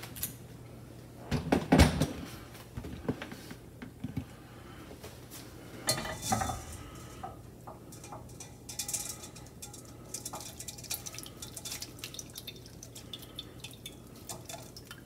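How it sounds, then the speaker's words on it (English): Lavender-infused oil is poured through a slightly oversized strainer, bringing metallic clinks and knocks of utensils and dishes, with a few sharper clatters early on and soft dripping and handling noises afterward. "the lavender buds are ready to be strained"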